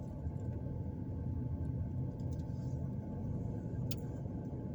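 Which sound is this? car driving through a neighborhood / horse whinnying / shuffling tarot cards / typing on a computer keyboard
car driving through a neighborhood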